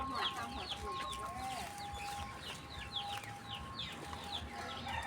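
Chickens cluck repeatedly near a banana grove on a rural plot, with short, quick calls arriving in loose bursts against a steady outdoor background.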